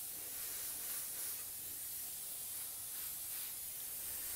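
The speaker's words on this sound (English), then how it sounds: "The airbrush that I'm currently using is the Iwata HPCS Eclipse." An Iwata HPCS Eclipse airbrush with a 0.35 mm needle sprays paint for a flame artwork. It gives a continuous, even hiss at close range that lasts the whole time, with no talk.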